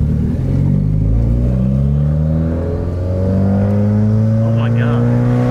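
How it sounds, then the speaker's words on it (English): Subaru WRX driving after a front and rear sway bar install, its mid-frequency engine droning steadily with rising pitch as it accelerates through the gears, close and loud throughout, with a voice briefly talking over it. "first drive with the front and rear sway bars on"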